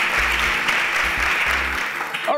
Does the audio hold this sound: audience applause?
yes